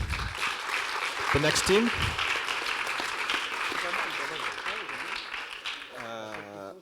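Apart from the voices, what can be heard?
audience applause for startup presenter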